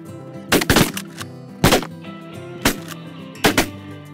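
Shotgun blasts fired at geese during a waterfowl hunt, arriving in four quick clusters of sharp, loud reports, each cluster holding two or three shots in close succession, with brief quiet gaps between volleys.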